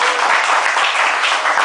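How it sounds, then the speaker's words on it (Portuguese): A church congregation applauding during a sermon, producing a loud, continuous wash of clapping that stays even and full from start to finish. "Aplauda o Senhor por isso, em nome de Jesus."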